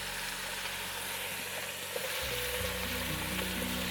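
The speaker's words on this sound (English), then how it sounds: "Going to add some soy sauce." Soy sauce hits a hot pan while a Korean vegetarian soup is cooked, producing a continuous close sizzle with a slight shift in tone partway through, and no voices.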